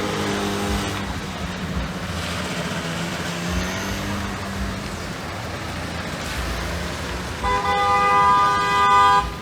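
Car horns honk in a traffic jam on a flooded street during heavy rain, a steady wash of traffic and water noise broken by a long, loud, close honk near the end.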